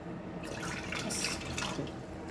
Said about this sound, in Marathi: गरम पाणी टाकेल मम्मी